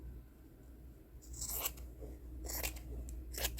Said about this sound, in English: I'm going to have to cut down the middle of this seam